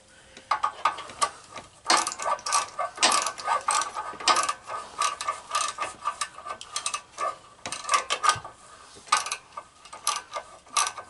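A ratchet wrench clicks in rapid bursts while working on the inside of a Craftsman LT2000 lawn tractor, close and loud, with rhythmic runs of ratcheting strokes separated by brief pauses and no talking.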